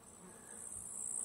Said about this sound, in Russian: Стрекочут кузнечики.